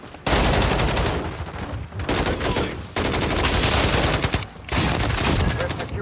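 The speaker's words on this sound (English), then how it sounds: "Taking effective fire." Dense gunfire in the video game Call of Duty Modern Warfare, with loud rapid bursts of automatic fire separated by short pauses, close and continuous across the battle.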